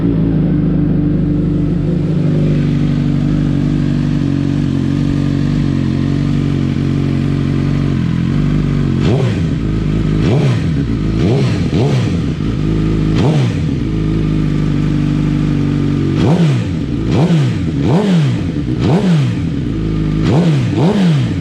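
A 2016 Suzuki GSX-R1000 motorcycle fitted with a titanium exhaust idles loudly at close range, then is revved in a series of sharp throttle blips, with rising and falling engine roars in quick clusters.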